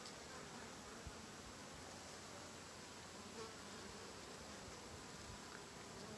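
A bee buzzes around flowering oregano plants in a garden, a faint, continuous insect drone that holds steady under a wash of outdoor background hiss, with no voices.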